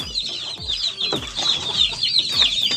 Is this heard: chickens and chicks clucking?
yes